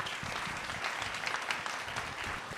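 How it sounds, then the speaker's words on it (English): Audience applause at a nursing excellence awards ceremony, steady broadband clapping from a large crowd filling the whole moment with no voices on top. "So again, give him a good round of applause."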